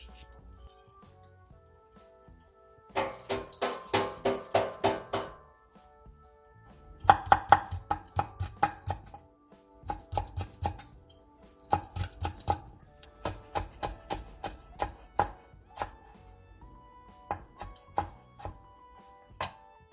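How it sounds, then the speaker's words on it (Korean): A knife finely chops Cheongyang chili peppers on a cutting board in rapid rhythmic bursts of crisp taps, close and clear, with short pauses between runs. "청양고추 2개에 길게 십자 모양으로 칼집을 낸 뒤 씨를 털어내고 쫑쫑 썰어주세요"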